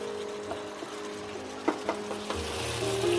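Ridge gourd being sautéed in a pan for a Bengali jhinge koura dish, a steady close sizzle with a few soft scraping stirs and clinks, growing slightly louder toward the end.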